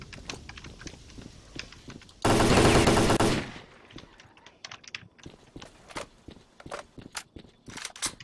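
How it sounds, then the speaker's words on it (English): Rapid pistol fire from a S.T.A.L.K.E.R. bandit-style mod bursts loud for about a second, then lighter clicks and steps continue. "Oh, you shoot the pistol though."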